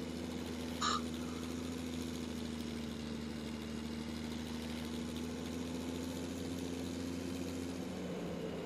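A steady idling tractor engine pulling a baler in Farming Simulator 17 drones at an even pitch throughout, with a brief higher blip near the start.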